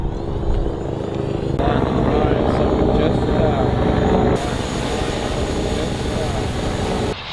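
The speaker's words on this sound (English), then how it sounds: "Helicopter." Helicopter overhead outdoors, a steady loud rotor and engine drone that continues throughout, with a shift in tone partway through and voices talking around it.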